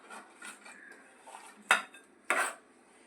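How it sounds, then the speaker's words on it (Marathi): Jaggery being stirred into grated pumpkin in a metal pot, with close, soft spoon scraping and two sharper utensil clinks against the pot near the end, no talk. "ह्या भोपळ्याच्या खिसामध्ये ना हा एवढासा गूळ मी मिक्स करते"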